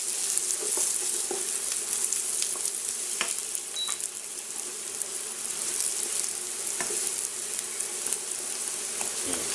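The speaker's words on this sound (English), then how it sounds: "we're going to add our garlic. And saute that for just a few seconds." Garlic sizzles in a pan with browned onions for Greek meatball sauce, a steady close crackling fry with occasional stirring scrapes and clicks, no voices.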